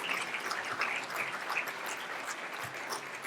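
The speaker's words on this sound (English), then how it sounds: "round of applause for Samantha." Audience applause at an awards induction ceremony fills the room with steady, dense clapping throughout, moderately loud, with no one talking over it.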